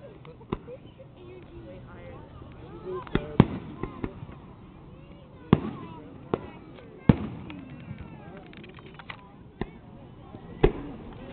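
Fireworks bursts in the Webkinz online game during a Fourth of July event, heard as sharp scattered pops and cracks at irregular intervals over a low background, with people chatting faintly.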